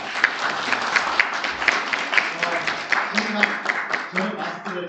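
Audience at a Busan youth policy seminar clapping, a moderate indoor round of applause with distinct individual claps, steady throughout, no voices.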